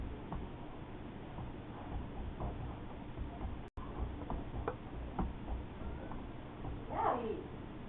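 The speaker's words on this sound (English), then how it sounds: "Brother is meowing." A single brief cat meow rises near the end of a stretch of quiet game ambience with soft ticking clicks in Xenoblade Chronicles 2.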